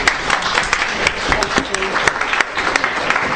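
Audience applause welcoming investigative journalist Sue Reid at a talk, a steady dense wash of many hands clapping throughout with a faint voice underneath.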